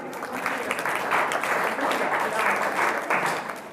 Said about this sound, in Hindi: तालियों से स्वागत करें पहले इनका।